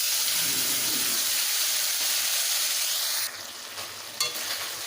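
Spices stirred in a pan of hot oil for soybean and potato curry, giving a steady loud sizzle with faint scraping, which drops a little near the end before a brief clatter.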